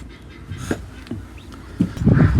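Farm ducks, black-and-white and white birds, giving a few scattered quacks and calls, growing busier and louder toward the end, fairly close with no talking.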